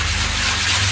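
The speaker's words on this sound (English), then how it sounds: "I took this dollar store sanding block" A dollar store sanding block rubbed over a model surface, a short, steady scratchy rasp, close and continuous for about a second.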